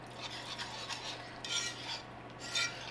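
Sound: whisking broth into a sauce in a pan

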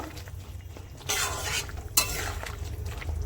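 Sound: stirring fried bitter gourd into curry in a pan

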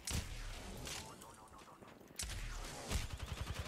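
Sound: gunshots in a video game

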